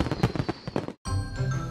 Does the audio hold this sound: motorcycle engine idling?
no